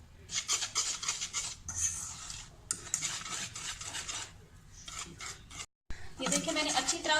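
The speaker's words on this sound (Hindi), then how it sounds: "इसको अच्छी तरह से हम दोनों चीज़ों को मिक्स कर लेंगे" A utensil stirs flour and baking powder into brownie batter in a bowl, making close, repeated rhythmic scraping strokes that pause briefly near the end before starting again.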